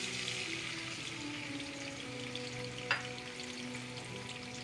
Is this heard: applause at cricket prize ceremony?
no